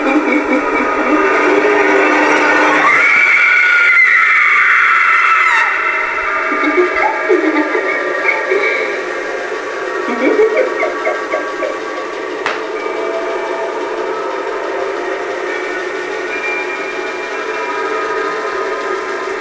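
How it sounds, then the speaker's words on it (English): Motor of a Spirit Halloween 2023 Darling Dolly animatronic doll running indoors, a steady whirring hum with a brief high whine early on, continuous and fairly close. "The motor noise is a little bit odd."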